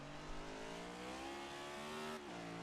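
A race car accelerates hard on a track, its engine note climbing steadily through a gear before a sharp shift drops the pitch, a sustained, faint, distant-sounding roar with no voices.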